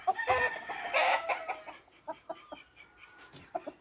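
A yellow, one-eyed rooster calls with a burst of loud crowing-like vocalisation near the start, followed by several short, sharp clucks spaced out over a few seconds, close to the microphone.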